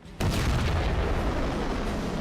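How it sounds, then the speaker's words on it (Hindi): A sudden loud, broadband explosion blast that hits sharply and then roars on as sustained rumbling noise, close and dominant. "सिर्फ विस्फोट।"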